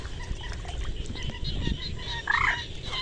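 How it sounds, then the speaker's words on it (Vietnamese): A baby bird gives a short, bright chirp outdoors at night in Vietnam's rural Mekong Delta region. It comes late and briefly over a steady hiss of background noise. "Chim con chích nè."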